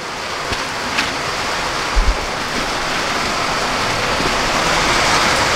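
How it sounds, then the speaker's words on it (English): Heavy rain pours in a loud, continuous roar, with an occasional dull knock beneath it. "It started pouring down rain."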